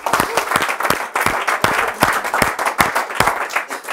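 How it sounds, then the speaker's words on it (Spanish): A church congregation applauds during a Spanish-language sermon, with dense, close clapping that swells and surges in uneven bursts throughout. "Dale un aplauso a Cristo."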